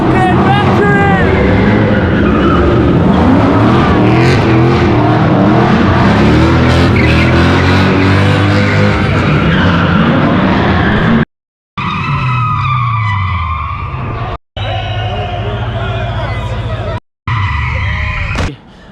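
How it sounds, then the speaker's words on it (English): A straight-piped 3UZ V8 car drifting inside a warehouse, engine roaring loud and continuous with screeching tyre squeal echoing off the walls, broken by a few brief cuts. "drifting in the fucking factory"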